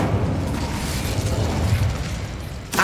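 An Incendio fire spell cast in Hogwarts Legacy on PS5 produces a loud, rumbling burst of flame that roars steadily for a few seconds and ends in a sharp crackle.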